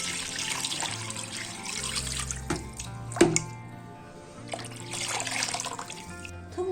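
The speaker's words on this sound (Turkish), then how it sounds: "Üzerine geçecek kadar su ekleyelim." Water runs steadily from a tap into a pot holding chicken pieces, a continuous splashing rush with a clink partway through, close and moderately loud.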